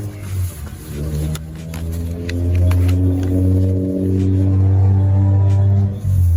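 A loud car engine revs and roars nearby, pitch climbing and falling as it surges past, rumbling heavily throughout.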